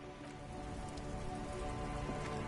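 Steady rain falls in the video game Disco Elysium, a soft, even hiss of drops on a surface, faint and continuous with a low musical tone beneath it.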